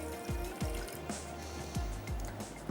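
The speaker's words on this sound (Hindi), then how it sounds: "चीनी के जितना ही ऑलमोस्ट हम इसमें ऐड कर देंगे पानी" Water poured into sugar in a pan for syrup, giving quiet gurgling fills and drips in a few short repeated bursts, close and faint with no talk.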